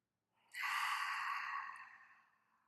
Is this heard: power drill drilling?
no